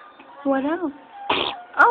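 A baby lets out a quick, sharp sneeze at close range, preceded by someone talking and some small vocal noises.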